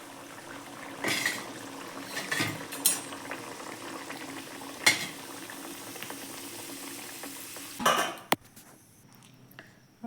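Cauliflower kachoris bubbling in hot oil, a soft continuous sizzle and bubble with occasional clinks of a utensil against the pan, fairly quiet with no talking.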